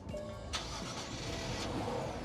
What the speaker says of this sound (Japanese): じゃあちょっとエンジンかけさせていただくと